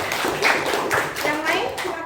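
Children in a classroom clap together in a short burst of quick, overlapping claps that carry on for about two seconds, with voices audible underneath.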